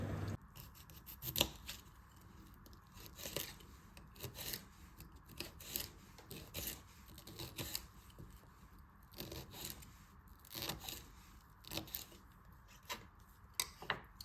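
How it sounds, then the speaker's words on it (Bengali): A knife chops broccoli on a board in a quick, uneven series of crisp, crunchy cuts, close and fairly quiet, with brief pauses between bursts. "স্লাইসটা ঠিক এইভাবে করে নিচ্ছি এতে করে একটু কাঁচা কাঁচা রাখবো ব্রুকলি"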